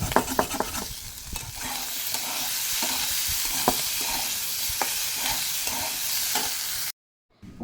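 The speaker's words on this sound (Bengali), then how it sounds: "তো এইগুলো চলো লাল লাল করে ভেজে নিই" Vegetables are being fried in a little oil until browned, with a loud steady sizzle and repeated scrapes of a spatula stirring the pan nearby. The sound cuts to silence near the end.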